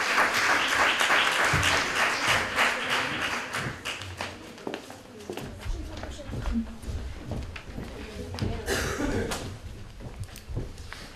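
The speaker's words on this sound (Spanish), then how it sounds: "Un aplauso para ellos, por favor." Audience clapping at a Book Day event in San Roque, loud and dense at first, then thinning into scattered claps with a voice heard over the tail.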